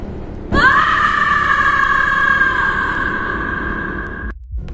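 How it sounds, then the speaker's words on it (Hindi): A woman lets out a long, loud, sustained scream in a hospital corridor. It starts abruptly, holds steady for about four seconds and then cuts off sharply. "उसकी तेज चीख पूरे कॉरिडोर में गूंज उठी"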